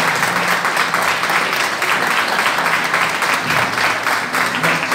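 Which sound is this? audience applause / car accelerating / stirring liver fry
audience applause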